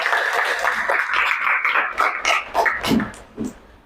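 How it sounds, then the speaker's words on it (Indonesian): Children clap their hands in a classroom, a dense burst of claps that thins into a few scattered, uneven claps and fades out. "Oke, tepuk tangan buat Tuhan Yesus."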